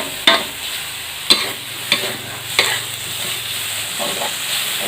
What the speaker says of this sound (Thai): พอให้กระเทียมมัน ออกเหลืองเหลืองได้กลิ่นหอมหอมของกระเทียม